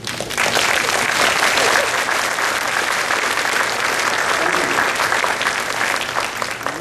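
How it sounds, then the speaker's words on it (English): A seminar audience on entrepreneurship applauds steadily, dense clapping filling the room at an even loudness for several seconds, without talk over it. "Shall we invite a very strong applause for him?"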